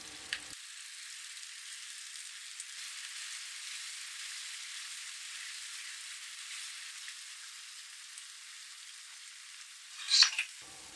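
Curry paste frying in cooking oil, a steady soft sizzle and crackle that runs without pause, with a brief louder burst of spattering near the end.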